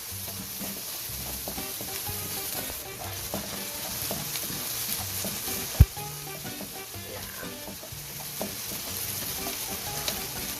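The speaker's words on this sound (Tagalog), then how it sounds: "Okay, gisa na tayo ng bawang tsaka sibuyas guys." Garlic and onion sauté in a pan for chicken afritada, a steady close sizzle and crackle with frequent stirring scrapes and one sharp knock partway through. No voices are heard.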